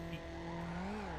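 A car in Need for Speed Underground skids on the handbrake, making a short, loud, sustained tire squeal with a rising pitch and engine tone underneath.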